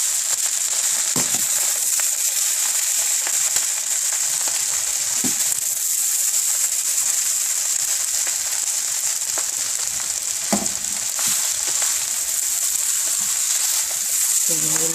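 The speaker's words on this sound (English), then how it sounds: "Mixing it as it fries, and all the sauce will combine everywhere." Hibachi beef fried rice with sauce sizzles loudly and continuously in a hot pan, with occasional scrapes and knocks as it is stirred.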